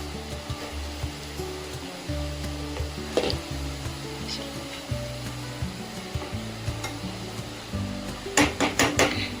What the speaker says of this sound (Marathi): अशा पद्धतीने आपण हे तळून घेऊया.